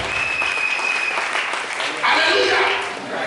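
A church congregation applauding through a worship service, a dense, sustained wash of clapping with voices and a held musical tone mixed in.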